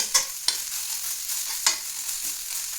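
Onions sizzle in a pan over a low gas flame for chicken gravy, a steady hiss of frying broken by a few sharp scrapes and clinks of stirring, close up and without talk.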